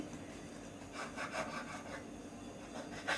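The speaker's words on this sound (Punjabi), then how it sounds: "ਸਭ ਤੋਂ ਪਹਿਲਾਂ ਆਪਾਂ ਬ੍ਰੈਡ ਦੀਆਂ ਇਹ ਵਾਲੀਆਂ ਸਾਈਡਾਂ ਨੂੰ ਕੱਟ ਲਾਂਗੇ ਜੀ" A knife saws back and forth through the crusty edges of bread slices, a soft, steady rasping at close range with a few louder strokes.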